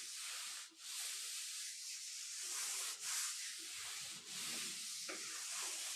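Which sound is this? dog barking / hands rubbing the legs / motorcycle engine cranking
hands rubbing the legs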